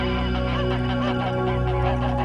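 Canada geese honking in a dense, continuous chorus, loud and close, with overlapping calls filling the whole stretch.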